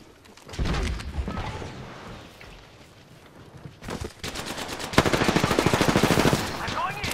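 Video game gunfire during a firefight played with a controller on PC: sustained rapid automatic bursts, loud and close, with a dense machine-gun stretch near the end and some talk underneath.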